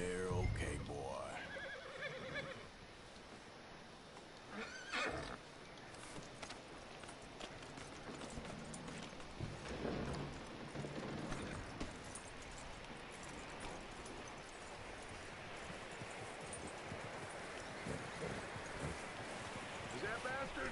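Horse in Red Dead Redemption 2 whinnying near the start, then hooves clopping and rustling on the ground, fairly faint beneath game sounds and spoken dialogue.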